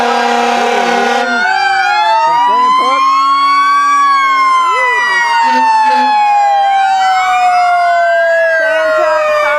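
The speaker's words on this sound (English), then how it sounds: "Santuck fire truck." A fire truck siren at a Christmas parade, loud and close: several overlapping wailing sirens rise and fall in long sweeping tones, with short whoops and horn blasts mixed in and voices talking underneath.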